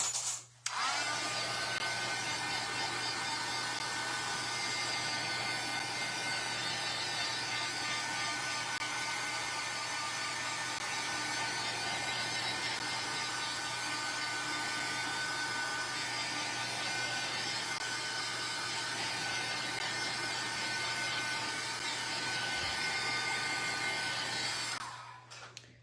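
A heat tool runs steadily for about 25 seconds while drying a scrapbooking project, a continuous close whirring blow that starts and stops abruptly, with no talking.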